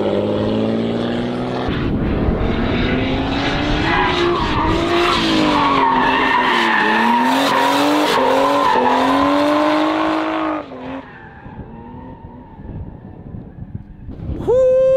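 A Nissan R32 Skyline drifting in Mexico, its engine rising and falling loudly as the tires squeal in long sustained slides, then fading to a distant drone before a sharp return.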